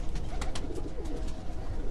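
White pigeons coo from a rooftop in Gujarat, a few soft, repeated calls close by over a steady hum of outdoor background noise.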